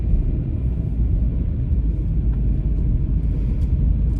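Inside a moving car, a steady, loud low road rumble and engine drone fill the cabin without a break and with no voices.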